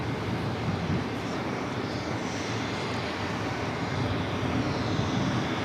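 A Japan Airlines Airbus A350-1000 jet bound for Tokyo Haneda at New York's JFK airport gives a steady, fairly distant engine roar and broadband rumble that holds evenly throughout, with no voices.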